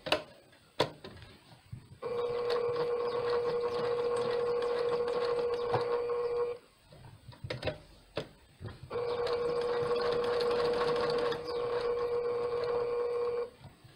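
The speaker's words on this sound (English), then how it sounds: "if you don't have a sewing machine, you can do this straight stitch by hand." A sewing machine runs a straight stitch around a fabric hexagon coaster in two steady bursts of about four to five seconds each, separated by a short pause with a few clicks, close and clear with no talking.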